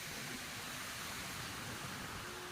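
Sea waves wash onto the shore at Bolinao, Pangasinan, as a steady, dense roar of surf that fills the whole short stretch without any voices.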